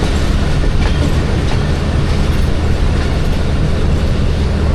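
Passenger train on a Pakistani railway between Karachi and Haveliyan, led by a locomotive, rumbling past up close with steady loud wheel clatter and roar throughout, no talking.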